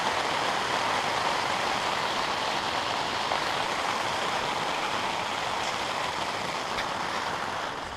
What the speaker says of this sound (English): we are really raining harder now